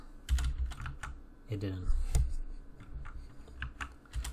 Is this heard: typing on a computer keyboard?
yes